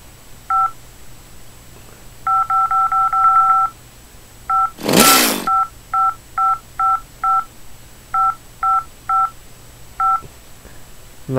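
Touch-tone keypad in a Henry Stickmin video game, heard in a bank-and-prison escape. It beeps in a quick run of short tones, then more evenly spaced beeps, with a loud whooshing burst midway.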